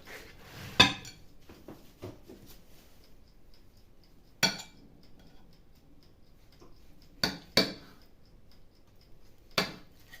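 A knife cuts through oven-baked salo, giving a few separate sharp clinks and scrapes against a plate or board, close and spaced out over quiet pauses.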